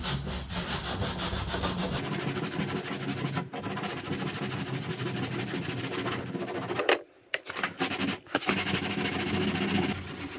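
Sanding a car body panel by hand with 80-grit sandpaper, loud close rasping strokes in a continuous scrubbing rhythm, with a couple of brief pauses near the end.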